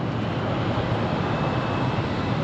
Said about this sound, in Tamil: அவங்க பாடுற இன்ஜின் சவுண்டு இங்கே கேட்குதுல்ல